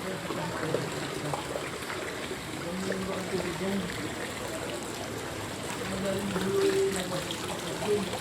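Floodwater rushes in a steady, broad wash that never lets up, with voices talking faintly over the flow.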